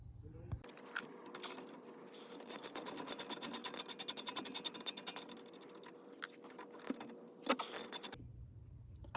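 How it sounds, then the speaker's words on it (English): A ratchet wrench loosens the 14 mm front brake caliper bolts on a 2018–22 Honda Accord, giving a close run of rapid metallic clicks with scrapes and clinks around it. "Those are 14 millimeters, and we're gonna start removing them now."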